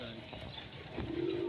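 Desi pigeons coo softly close by, a low rounded call rising near the end over a faint background of rustle and distant voice.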